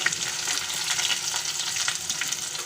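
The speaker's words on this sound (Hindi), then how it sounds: "तो ये प्याज हमने काटी है वो इसमें डालेंगे तेल के अंदर" Chopped onions fry in hot oil for a curry, giving a loud, dense, continuous sizzle close by with faint stirring under it.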